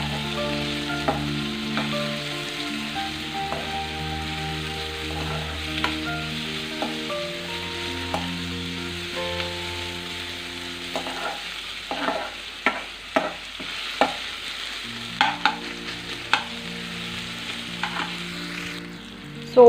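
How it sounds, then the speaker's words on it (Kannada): Tomatoes fry in a pan with a low sizzle under prominent background music. Light stirring clicks and taps grow more frequent and louder toward the end. "ಟೊಮೊಟೊ ಹಣ್ಣು, ಇದನ್ನು ಸಹ ನೀಟಾಗಿ ಫ್ರೈ ಮಾಡ್ಕೋಬೇಕು"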